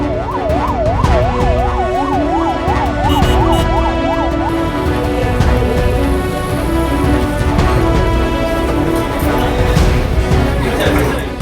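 Ambulance sirens wail at the scene of a deadly bus crash in Sivaganga, where more than ten ambulances were called. A rising-and-falling siren cycles loudly for several seconds over dense traffic and crowd noise, then fades into the steady din.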